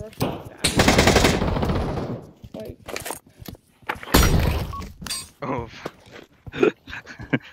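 Rapid bursts of automatic gunfire in the Pavlov VR shooter, loud and close, with several sharp volleys broken by pauses and single thuds, while players talk and shout over the shooting.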